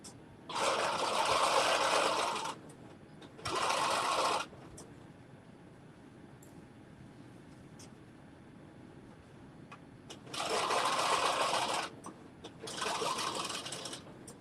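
A sewing machine runs in four separate bursts while stitching fabric for a McCall's 7892 garment, each a steady whirring hum lasting one to two seconds, with quiet pauses between.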